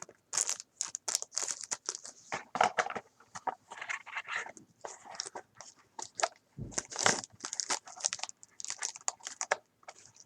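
A plastic bag crinkles as a Nintendo DS game is slipped back inside it, giving close, intermittent rustles and sharp crackles with brief pauses and no talking.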